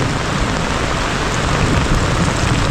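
Heavy torrential rain pours down on a tent at a campsite in a steady, dense hiss, loud and continuous, with no voices.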